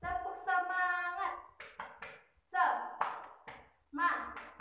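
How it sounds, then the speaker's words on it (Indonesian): A female teacher leads the classroom 'tepuk semangat' chant, her sung voice carrying the rhythm while short sharp hand claps punctuate it in a quick, patterned beat, close and clear. "kalian boleh mengikuti tepuk semangat ala ibu ya"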